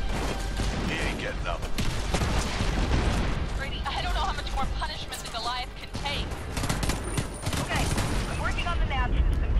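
Game gunfire from Homefront: The Revolution, dense bursts and shots continuing throughout, with someone talking over the shooting.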